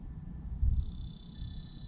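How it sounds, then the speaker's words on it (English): A cicada in a tree gives a steady, high, thin buzzing drone that sets in partway through and holds, faint and distant over low background rumble during an outdoor yoga session. "Apparently there is a cicada in the tree."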